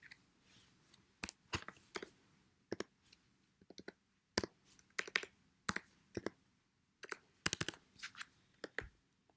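Computer mouse clicks and keyboard typing at a desk, with sharp close clicks coming in short irregular bursts and pauses between them and no talking.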